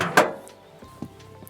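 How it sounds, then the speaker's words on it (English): A storage drawer under the rear bench of a Siesta California camper van is pulled out, giving a sharp close clunk followed by softer sliding and knocking sounds. "Lifting up the black handle, pull the drawer all the way out and it's inside."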